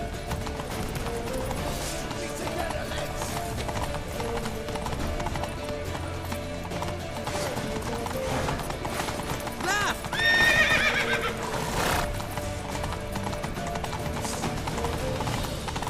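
Rhythmic hoofbeats of a galloping horse in The Witcher 3 run continuously under game music and effects, with a sharp whinny rising midway.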